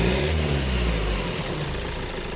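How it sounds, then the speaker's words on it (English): A Ford Transit Luton van's engine running, a steady close idle with a low rumble that settles slightly after a light rev at the start. "Nothing wrong with that engine."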